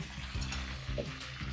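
Spices with a half spoon of turmeric frying in a pan for mutton keema, a soft steady sizzle with occasional stirring scrapes, close and fairly quiet, without talk.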